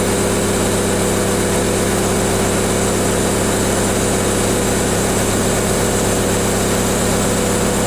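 A small engine on a 514TS3 screener runs steadily at a slow, even throttle during the overs conveyor fold, a loud continuous drone with no speech.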